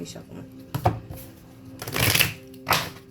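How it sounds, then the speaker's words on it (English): Tarot cards riffle-shuffled by hand in a few quick bursts, crisp papery flutters close up, with speech also present around them. "Let me shuffle these."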